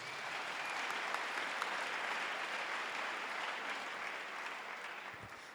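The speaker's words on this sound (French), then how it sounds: "Acclame le Seigneur Jésus." A church congregation applauds steadily for Jesus during a French-language sermon, a dense, sustained wash of clapping that holds for several seconds before tapering slightly at the end.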